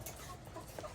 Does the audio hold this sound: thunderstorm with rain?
no